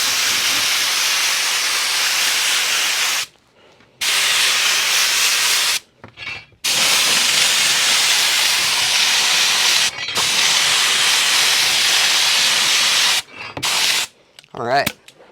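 Aerosol spray coating a fabricated column drop part for a 1932 Ford build, loud continuous hissing bursts of several seconds each, separated by brief pauses, close by.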